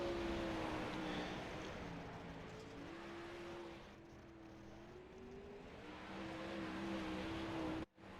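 A sprint car engine during qualifying at Kokomo Speedway in a racing game, a nasal engine drone whose pitch rises and falls through the laps, dipping briefly near the end, with no voices.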